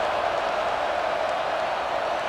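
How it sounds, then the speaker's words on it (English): Steady, dense crowd roar from a simulated college football game, Clemson at South Carolina, swelling in the stadium after a score; a continuous even wash of noise with no distinct cheers or talk. "this crowd is buzzing after that last score"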